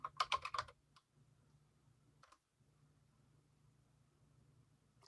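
A quick flurry of computer keyboard keystrokes, followed by a couple of isolated clicks and then a low steady hum.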